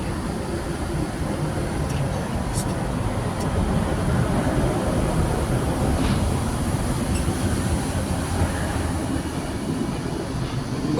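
A train rolls through Umeå C station in Sweden, a continuous broad rumble and rail noise with a few faint squeaks, steady and fairly loud throughout.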